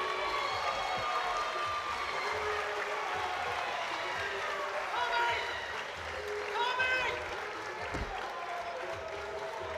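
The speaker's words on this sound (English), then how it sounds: "a round of applause for both boxers who gave everything" Arena crowd at a live boxing fight night applauds both boxers after the bout, sustained clapping and crowd noise at moderate volume with cheers rising briefly partway through.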